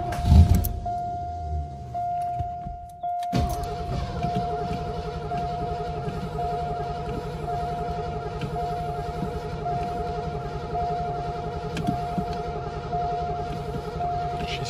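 A 1981 Ford LTD Crown Victoria barn find cranks over after a brief opening rustle: a steady, rhythmic starter churn that runs continuously for over ten seconds, joined by a constant whine.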